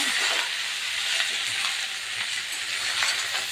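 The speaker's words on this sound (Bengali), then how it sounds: "এবার আমি দিয়ে দিচ্ছি শাকটাকে। সব শাকগুলো এভাবেই দিয়ে দেবো।" Bottle gourd greens hit hot oil seasoned with cumin in a pan, setting off a steady, close sizzle and hiss with faint clinks from stirring throughout.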